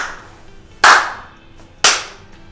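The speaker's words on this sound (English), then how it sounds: "until you clap your hands" Two sharp, loud hand claps ring out about a second apart, each with a short reverberant tail in an otherwise quiet room.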